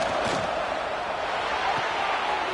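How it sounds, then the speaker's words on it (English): A home crowd in a football video game roars steadily and loudly throughout, a dense, continuous wash of cheering with no breaks. "this home crowd is fired up and ready to make a difference"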